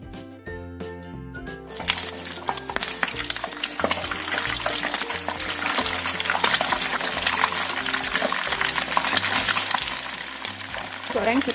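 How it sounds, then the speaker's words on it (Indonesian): Tongkol tuna fries in oil in a wok on medium-low heat, a dense, continuous crackle and sizzle following a brief burst of music, steady and close throughout. "Kita goreng dulu tongkolnya sampai kering ya, supaya nggak tercium bau amis."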